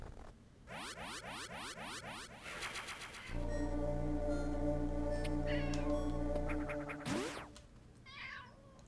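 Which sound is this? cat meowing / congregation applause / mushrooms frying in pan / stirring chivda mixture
cat meowing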